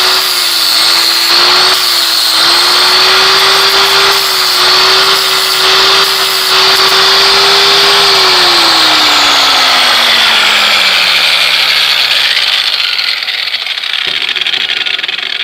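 Power grinder working the rear shock mount of a Bandit UTV, a loud continuous whine close up throughout, its pitch holding steady and then sliding down as the tool winds off near the end, with no voices.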